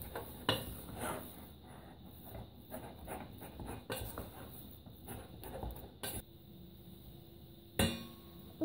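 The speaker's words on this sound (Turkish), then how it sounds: "1-2 dakika karıştıracağım." Chocolate cream is stirred in a pot on the stove, a spoon scraping and clinking against the pot in irregular knocks, with a couple of sharper louder clanks standing out over quiet background hiss.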